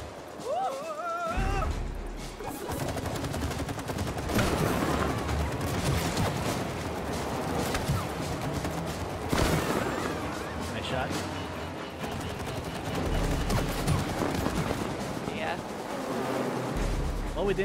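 Rapid gunfire bursts and crashes in the co-op video game It Takes Two, loud and dense throughout with sporadic voices over the action.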